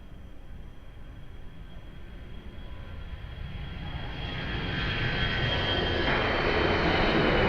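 An airplane takes off at Lisbon Airport, its engine roar building steadily from a distant rumble to a louder, broad jet wash with a rising whine.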